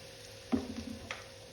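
Mustard seeds sizzling in hot oil for a pickle: a faint steady crackle that bursts into a brief louder sizzle and spatter, then settles back to a quiet hiss.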